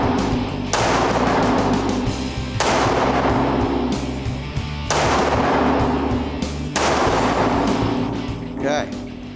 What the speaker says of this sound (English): You're gonna shoot this with only your left hand.